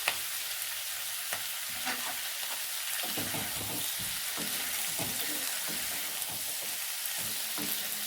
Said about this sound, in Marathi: कढईमध्ये चांगल्या प्रकारे मिक्स करून घ्यायचे आहे.